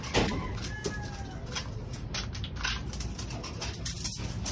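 Breeder pigeons peck at feed in a loft, soft low cooing and rustling under scattered sharp pecking taps and a brief faint chirp, close and continuous.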